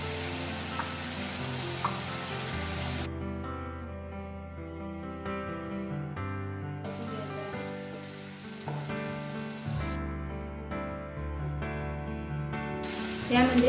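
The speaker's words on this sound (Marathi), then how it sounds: "हे पण तेलामध्ये छान परतून घ्यायचं आहे" Spices and paneer masala sauté in hot oil with a soft, continuous sizzle, while a voice carries on over it.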